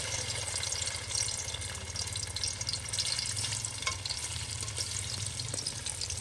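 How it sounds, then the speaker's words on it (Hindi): Fish pieces sizzle and crackle steadily in hot oil in an open pan at a Pakistani village cookout in Punjab, a dense continuous frying hiss close by with no talk. "मछली फ्राई की जा रही है और ऑयल अच्छे से गर्म हो चुका है।"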